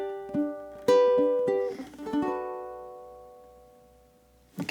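A ukulele plays the fourth measure of a song, a handful of plucked notes and chords ringing close and clear with a long decay, then a brief strum at the end.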